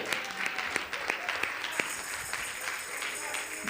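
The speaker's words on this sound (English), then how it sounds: "Let's give them a wonderful round of applause." Audience applause at a church Bible study and home buying workshop, scattered claps from a modest crowd with sharp individual hand strikes standing out, and some voices mixed in.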